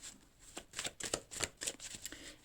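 Tarot cards being shuffled and drawn, a run of quick papery riffles and flicks in an irregular rhythm, close and fairly quiet, with no voices.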